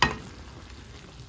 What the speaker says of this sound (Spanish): Miren, aquí se sigue cociendo nuestra cecina.